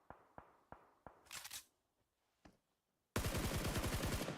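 Gunfire in PUBG Mobile: four spaced single shots, a short burst, a lone distant crack, then a loud rapid automatic spray close up, with no talking.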